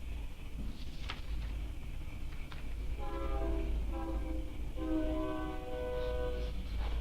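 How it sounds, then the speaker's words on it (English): A freight train rumbles past in a remote small town, its low, steady roar faint and distant, with two long horn blasts sounding over it. "Last train's at 7:30 if they're open, freight train."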